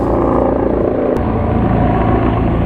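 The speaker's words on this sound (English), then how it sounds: "It's a helicopter." A helicopter roars loud and close overhead in Nashville, its steady droning thrum with a rapid rotor chop filling the whole moment alone, with no talk.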